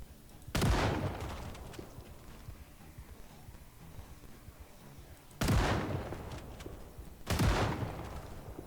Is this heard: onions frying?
no